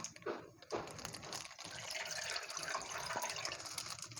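Water poured from a full small bowl into a bowl of yogurt for Marathi-style kadhi, a steady close splashing fill running almost continuously after a brief gap near the start.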